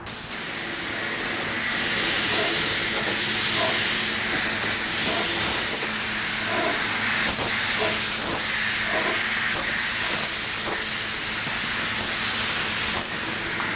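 A paint spray gun lays a second clear coat onto a car panel, producing a loud, continuous hiss of atomized spray that holds steady for many seconds without speech.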